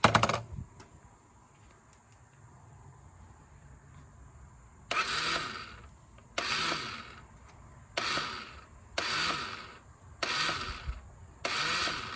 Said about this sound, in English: we got to see if this thing cranks up